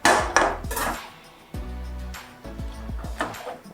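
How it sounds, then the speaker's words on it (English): A saute pan set down on a stovetop while cooking seared tomahawk ribeye and baked lobster, giving several close metallic clanks and ringing scrapes of cookware, spread over a few seconds with no talk. "Then right here, we're gonna put in our saute pan"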